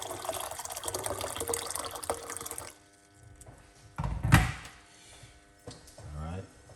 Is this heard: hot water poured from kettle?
yes